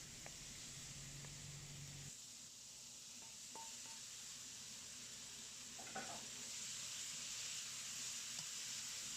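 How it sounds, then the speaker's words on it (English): Bell peppers and steak stir-fried in a pan make a faint, continuous sizzle and hiss, broken by a few soft scrapes and clinks of the spatula, with no voices. "Stir fry the bell peppers for a minute."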